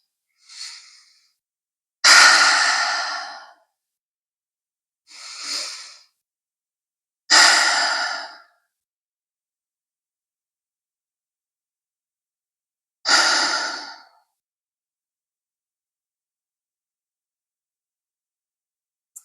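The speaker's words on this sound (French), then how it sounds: "Tu inspires par le nez et tu expires profondément par la bouche en relâchant toutes les tensions." Slow deep breaths during a home yoga session, each inhale through the nose and long exhale through the mouth coming as separate loud airy bursts with long silent gaps between them, five or six breaths in all.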